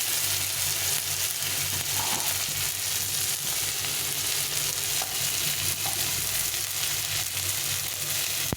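Ground turmeric, chilli, cumin and Kashmiri chilli powder being stir-fried in a pan for a pointed gourd curry, a steady close sizzle with scraping stirs running throughout, no voices.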